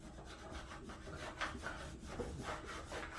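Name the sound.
dry rubbing wax onto snowboard base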